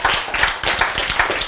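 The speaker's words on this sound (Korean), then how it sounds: "야, 박수를 다 치시네 오늘은" Church congregation clapping during a sermon, close, brisk claps in a quick uneven rhythm, loud and mostly without talk.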